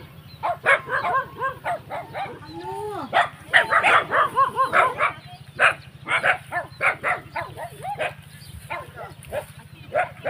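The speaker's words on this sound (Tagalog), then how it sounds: "Ang daming aso kaya, ang daming aso." Several dogs guarding duck pens bark repeatedly in overlapping bursts at a moderate distance over a steady low engine hum.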